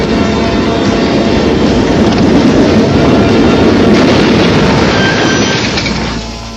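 Loud, continuous rumbling roar of a train passing close by, holding steady before fading slightly at the end.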